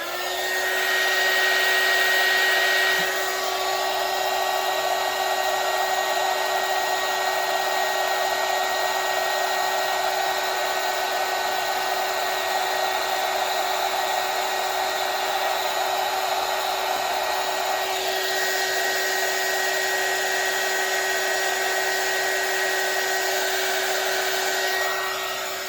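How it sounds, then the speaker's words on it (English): A heat gun blows a steady, loud whooshing hiss while warming UV resin on a fishbowl pendant. It runs continuously at a near, even level with no talk over it. "let's get the heat gun going"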